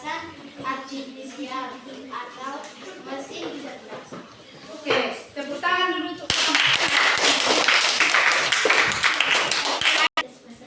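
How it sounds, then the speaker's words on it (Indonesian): A classroom of children bursts into loud group hand clapping after several seconds of a teacher and pupils talking; the clapping holds steady and close, then cuts off abruptly. "Oke, tepuk tangan dulu untuk"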